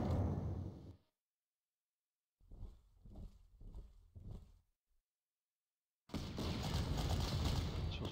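Artillery fire in the strategy game Panzer Corps, heard as a loud noisy burst, then a short run of about four rumbling blasts, then another sustained roar, with silent gaps between.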